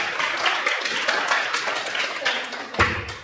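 A small audience claps at an astrology talk, a dense patter of hands that stays steady, then fades near the end, with some voices mixed in.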